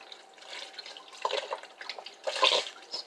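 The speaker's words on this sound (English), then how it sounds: "Now I'm going to add the rest of this broth that I have." Broth poured into a crockpot for old-fashioned hamburger soup: a close, splashy stream of liquid that surges and fades in uneven bursts over a few seconds.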